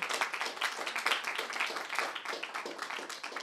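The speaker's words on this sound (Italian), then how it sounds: "Un grandissimo applauso per Emanuela Minelli." An audience at a book presentation in a bookshop applauds with dense, steady clapping that fills the room at moderate loudness and continues unbroken throughout.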